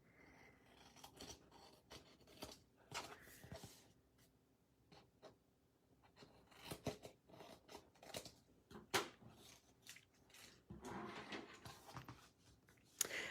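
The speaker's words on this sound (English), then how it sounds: "So I'm going to cut the corners" Scissors snip around the corners of a paper wallet folio, a run of short, close crisp cuts and rustles spread through the stretch with brief pauses between them.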